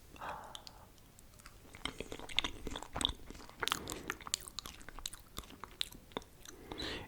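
Close, soft chewing and wet mouth clicks of someone eating a banana in an ASMR tasting, irregular bites and mastication sounds with light smacking throughout.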